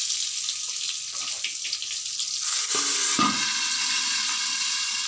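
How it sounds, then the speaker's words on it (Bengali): Long-cut eggplant slices frying together in a pan, a continuous bright sizzle with a few stirring scrapes and a brief clatter midway, close and without talk. "যতগুলো একসঙ্গে ভাজা যায় ততগুলো একসঙ্গে দিয়ে আমি ভেজে নিচ্ছি।"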